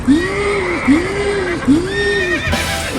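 A horse neighs three times in a row as a sound effect, each whinny a loud, clear, rising-then-falling call, with a brief noisy thump at the end.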